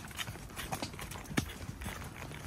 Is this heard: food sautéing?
no